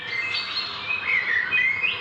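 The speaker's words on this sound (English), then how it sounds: "They are brown finches." Brown finches chirp in a continuous, fairly close stream of high tweets and short trills, with no talking.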